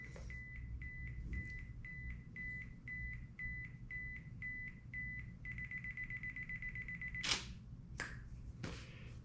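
A camera self-timer beeps in a steady run of evenly spaced short electronic tones that speed into a continuous tone near the end, with a Sigma 135mm f/1.8 lens mounted on a camera on a tripod, all set over low background hum.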